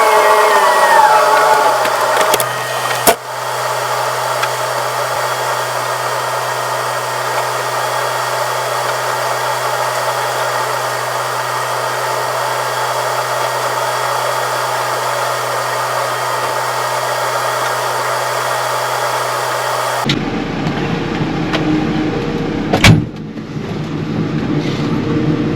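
A Keenan feeder wagon runs while feeding cattle, giving off a steady, loud mechanical whine and hum that holds for about twenty seconds. It then shifts abruptly to a quieter, rougher drone with a brief clatter.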